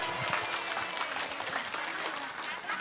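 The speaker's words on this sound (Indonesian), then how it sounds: "Tepuk tangan." Brief applause from a gathered crowd at a Maulid Nabi celebration, a quick flurry of clapping hands with faint voices mixed underneath.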